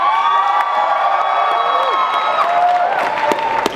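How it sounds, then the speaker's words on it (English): A comic-con crowd at a Harry Potter musical parody show cheers and whoops loudly, with shrill high-pitched shouts and scattered clapping, close and sustained for the whole moment. "Use audience applause if you wanna hear Elmer."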